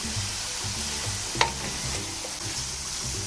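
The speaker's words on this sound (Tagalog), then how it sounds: "Tapos hahaluin lang po natin para ma-mix yung lasa ng ating bawang, sibuyas at saka sili doon sa ating mushroom." Mushrooms with garlic, onion and chili stirred in a pan, with a steady soft sizzle and a sharp scrape of the utensil near the middle, close and fairly loud, no talking.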